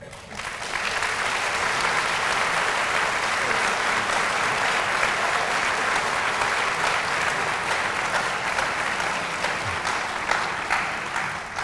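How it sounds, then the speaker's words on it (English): Sustained, loud applause from an audience at a new student convocation, filling the space steadily for over ten seconds without a break before tapering slightly at the end. "thank you for the round of applause"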